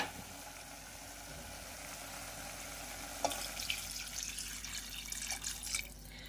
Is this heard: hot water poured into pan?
yes